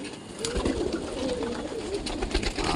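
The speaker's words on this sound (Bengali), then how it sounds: "কাশ্মীর তোমার পায়রা অনেকগুলো আসে আমার কাছে সবই বাচ্চা ঘরের এগুলো" Pigeons coo steadily in a loft, a close, continuous murmur of low throaty calls with no talking.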